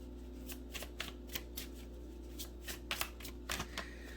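Tarot cards being shuffled close up, a series of quick riffling bursts and soft snaps over a low steady hum, with no voices.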